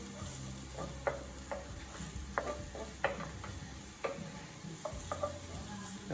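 Cauliflower begins cooking in a pan, giving a soft, steady sizzle with scattered light ticks and scraping taps from stirring, under a low background hum.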